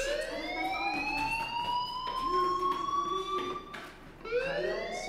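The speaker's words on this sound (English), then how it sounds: "Hey, do you hear that fire alarm?" A school fire alarm in the Life Is Strange video game wails in rising, sweeping electronic tones, loud and continuous with a brief dip before it climbs again, with no voices over it.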